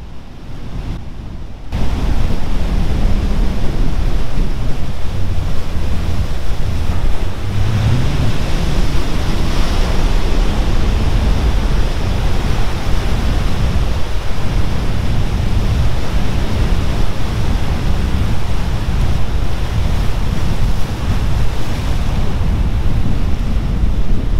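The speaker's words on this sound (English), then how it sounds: "The ocean. Hear it?" Pacific Ocean surf roars steadily at Oceanside pier in California, a loud, continuous wash of breaking waves with some wind buffeting the microphone, beginning after a brief quieter moment.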